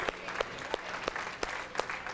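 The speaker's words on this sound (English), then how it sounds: "I'm gonna clap for myself" Sharp hand claps ring out at a slow, uneven pace, about half a dozen in a room with faint background noise.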